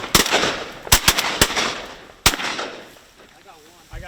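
Shotguns fire at ducks during an early October public-land duck hunt in South Dakota, five or six sharp, loud blasts in quick irregular succession, the reports echoing outdoors with wind in the background.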